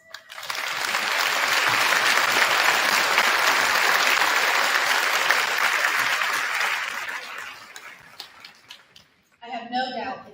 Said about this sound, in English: Please join me in giving all of them a round of applause.